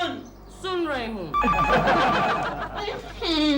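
A telephone rings in repeated trilling bursts while people talk over and between the rings, in Hindi.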